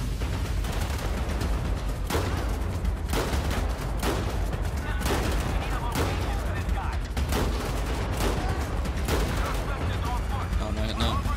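Sustained gunfire in the modded video game GTA 5 crackles as rapid, repeated shots over a constant loud background throughout, with a person talking over it.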